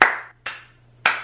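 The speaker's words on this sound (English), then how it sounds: "she starts to do the slow clap" Three slow, deliberate claps from one girl, evenly spaced about half a second apart, each a crisp, loud smack close by with a brief ringing tail and nothing else around them.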